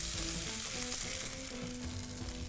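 Beef chow fun noodles frying in a pan with garlic, ginger and chili, a loud, continuous sizzle and crackle close up throughout, with no talk.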